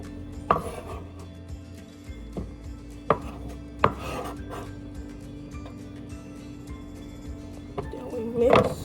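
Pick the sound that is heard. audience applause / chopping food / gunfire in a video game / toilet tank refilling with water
chopping food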